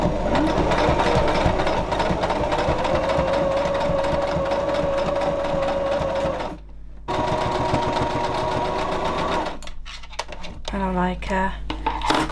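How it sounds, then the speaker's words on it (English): A sewing machine stitches fabric onto ribbon for a junk journal cover, running steadily with a whirring mechanical hum for several seconds, pausing briefly, then resuming in short bursts. "Now, I am going to sew this onto the ribbon."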